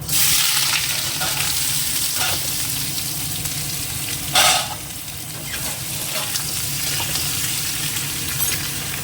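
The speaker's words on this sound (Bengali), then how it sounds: "এবার এটা একটু তেলে ভেজে তুলবো কড়াইতে দিয়ে দিচ্ছি তেল গরম হয়ে গেছে" Partly boiled jackfruit and potato pieces fry in hot oil in a wok, a steady close sizzle with a brief louder hiss midway as food is stirred, and no talking.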